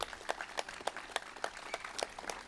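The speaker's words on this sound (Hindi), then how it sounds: "जोरदार ताली बजा दो भाई बच्चे के लिए।" An audience at a yoga session claps loudly in a quick, rhythmic run of applause that lasts the whole moment.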